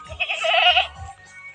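A goat bleats once in a long, wavering call, close by, with faint rustling and low thumps around it.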